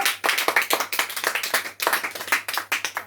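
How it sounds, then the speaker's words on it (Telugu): An audience claps for a friend in a quick, fairly even burst of many hands slapping together close by, with a low steady hum underneath throughout. "ఒకసారి మీ ఫ్రెండ్ కోసం చప్పట్లు కొడతారా?"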